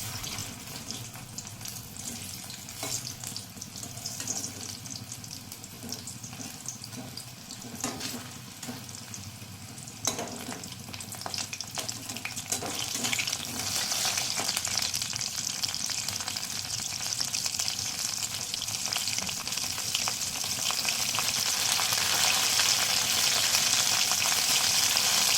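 Drumstick fritters bubble and sizzle steadily in hot oil after being turned over, a continuous close crackling hiss that grows fuller and louder toward the end, with no voices.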